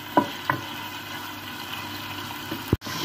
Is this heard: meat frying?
yes